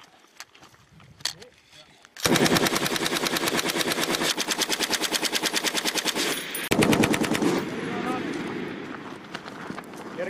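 Rapid sustained bursts of automatic fire from an M240L machine gun during military team training, loud and close, following a few seconds of quieter shouted talk and sporadic shots, with brief pauses between long strings of rounds.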